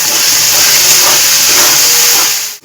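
Grated tomato hitting a hot mix of turmeric and chilli powder in a pan for a home-style chicken curry, giving a loud, steady hiss that holds for a few seconds, then cuts off abruptly.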